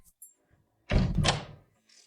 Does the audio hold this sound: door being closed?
yes